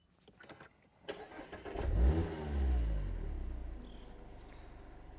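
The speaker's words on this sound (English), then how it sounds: "When you start it, it gives it a little rev by itself." A 2024 Mazda MX-5 GT RS with a manual gearbox starts with a short starter crank, then the engine catches and flares into a brief automatic rev before easing back to a steady idle, heard fairly close.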